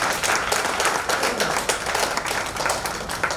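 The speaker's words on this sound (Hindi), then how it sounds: "एक बार और तीनों पैनलिस्ट के लिए जोरदार तालियां।" An audience at an Arthritis Day panel event applauds the three panelists, a continuous mass of clapping at a moderate, even level throughout.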